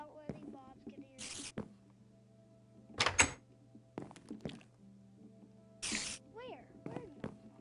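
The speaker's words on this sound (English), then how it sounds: "Okay, shut the door, I don't want any mobs getting in." A door shutting in the Minecraft video game, heard as several short dull thunks spread across the stretch, fairly close and clear, with a person talking between them.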